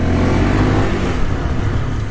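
A motorcycle ridden along a road gives a steady, loud engine drone throughout, with a continuous low rumble and no talk.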